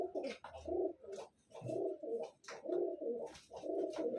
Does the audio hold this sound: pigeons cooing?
yes